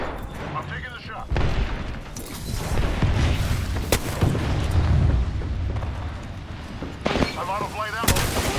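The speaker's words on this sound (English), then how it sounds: "I'm taking the shot." Apex Legends gunfire rings out in sharp, loud shots and booming blasts amid battle noise, while a voice speaks over the action.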